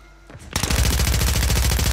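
Rapid machine-gun bursts in Call of Duty open after a brief quiet start, then run as a loud, continuous rattle of closely spaced shots with no talking.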